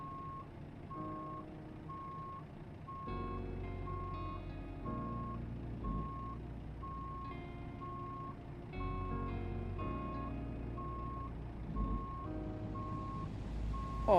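Steady, evenly spaced reversing beeps from a Volvo truck backing up in a video game, repeating alone over a constant low engine rumble with no talk.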